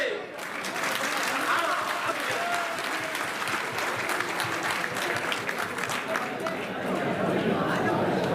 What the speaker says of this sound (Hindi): ताली हल्की है।